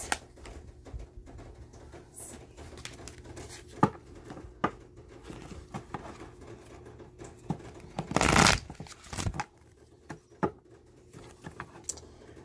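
Tarot cards shuffled by hand, soft scattered riffles and taps at close range with one longer, louder burst of rapid shuffling partway through, over a quiet background.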